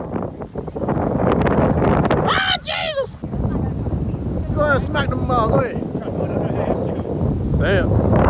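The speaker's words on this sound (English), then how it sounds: "This wind is disrespectful" Strong wind buffets the microphone at a beach, a constant loud roar with rough gusts, while voices talk and shout over it.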